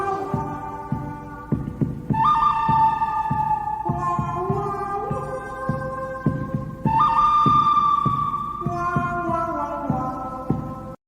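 A Native American hand drum struck with a stick gives steady, evenly spaced dull thumps, close and prominent, under a sustained melodic tone with rising and falling notes throughout.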